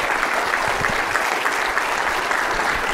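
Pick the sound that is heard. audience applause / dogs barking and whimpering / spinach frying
audience applause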